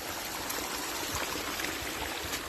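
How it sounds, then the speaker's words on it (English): Rainwater streams and trickles down a soaked Appalachian Trail hiking path, a steady close rushing wash with no talk over it. "there's water coming out of everywhere"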